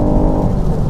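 A tuned Mk4 Ford Focus ST of about 330 bhp pulls out of a corner on wet road, its engine droning loud and close under throttle in a continuous, brief burst of in-car acceleration noise.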